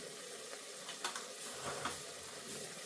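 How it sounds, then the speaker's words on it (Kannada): Green peas frying with chili powder in a pan for tomato bath, a soft continuous sizzle with faint stirring scrapes and a few small clinks, quiet and close with no talking. "ಈಗ ಬಟಾಣಿ ಫ್ರೈ ಆಗಿದೆ"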